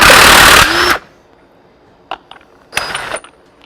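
A reverse-thread clutch nut comes off a Harley Big Twin Evo primary with a loud burst of a power tool, then sharp metallic clicks and a second short rattling burst, close up.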